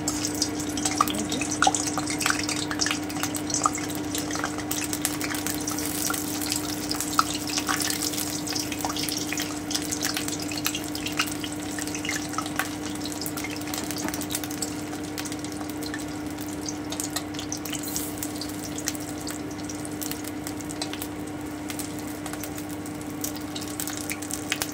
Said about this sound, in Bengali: আমি এইভাবে বড়াগুলো সব ভেজে নেব